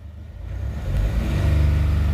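A Mahindra Bolero BS6 diesel engine with a disconnected DEF coupler revs up, its low drone rising steadily in loudness and pitch to a sustained high-rpm roar, close by.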